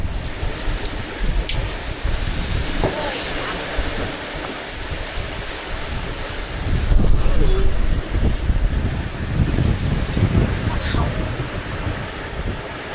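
Huge Atlantic Ocean waves wash and surge around a boat on a crossing while strong wind buffets the microphone, a continuous loud roar that swells midway, with a voice speaking briefly under the noise.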